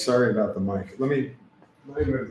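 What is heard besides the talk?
None of the usual background noises is heard.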